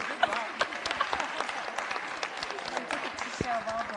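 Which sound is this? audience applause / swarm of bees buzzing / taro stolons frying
audience applause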